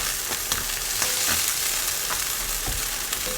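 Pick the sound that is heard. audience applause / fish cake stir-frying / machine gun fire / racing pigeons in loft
fish cake stir-frying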